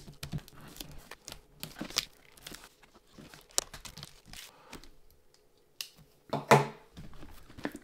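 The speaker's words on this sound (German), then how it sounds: "schneide ich mal hier nur die Folie frei" Shrink-wrap foil being cut open on a 4-LP vinyl box set, a close-up series of crinkles, small snips and scratchy rustles with quiet pauses between them, then a sharper tearing burst near the end.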